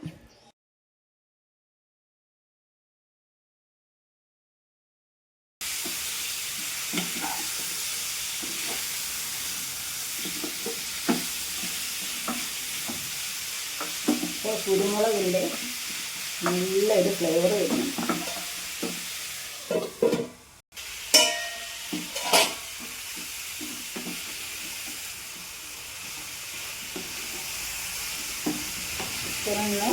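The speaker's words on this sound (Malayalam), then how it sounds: "മൂടി മാറ്റി ഇടയ്ക്കൊന്ന് നന്നായി ഇളക്കി കൊടുക്കുക" After a few seconds of silence, chicken curry sizzles and bubbles in a pan over high flame, with occasional scrapes and clinks from stirring and a voice talking intermittently over the cooking.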